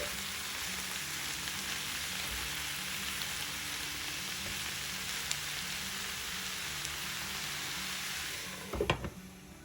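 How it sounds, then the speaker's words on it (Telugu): Amaranth leaves fry in a covered pan, giving a steady, even sizzle like rain on a surface that continues throughout, with a few brief clatters near the end. "ఇలా మొత్తం ఒకసారి కలుపుకొని మూత పెట్టుకుని బాగా వేగనివ్వండి."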